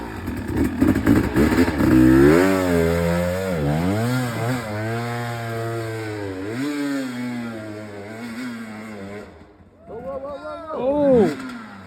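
A four-stroke enduro motorcycle engine revs up and down in a sustained, wavering drone during hard enduro riding, fairly close, then fades before a couple of sharp blips near the end.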